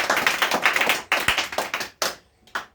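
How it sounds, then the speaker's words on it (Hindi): A small group claps for a correct quiz answer: a quick burst of loud, close applause that breaks off, then a few scattered final claps trailing away. "तो इसके लिए ताली बजाया जाए।"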